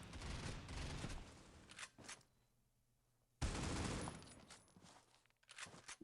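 Automatic gunfire from the mobile shooter Critical Ops during a ranked match, dense bursts of rapid shots that break off for a short quiet gap and then resume hard and loud.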